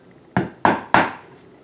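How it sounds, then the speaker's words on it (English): Hammer tapping wooden perches into a Triplex Plus birdhouse kit, three sharp, close, resonant wooden knocks in quick succession, each ringing off briefly. "You just tap them in with a hammer like so."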